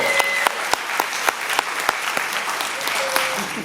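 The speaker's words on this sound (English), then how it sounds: "Y'all clap them parents up." Audience applause at a Kwanzaa celebration at Malcolm X College, a steady wash of clapping with a few sharp louder claps standing out, close and lively throughout.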